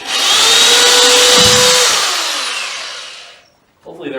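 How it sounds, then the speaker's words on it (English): Power drill boring through an interior wall to mount a thermostat, one loud continuous whine for about three seconds that winds down and stops, with a brief clatter afterward. "I'm just going to drill all the way through that"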